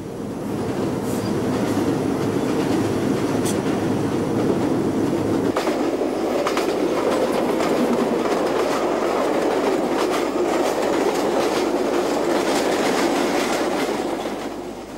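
Train engine running along the track on a line where elephants cross, a loud continuous rumble with rhythmic clickety-clack and faint metallic squeals, heard close throughout without talk.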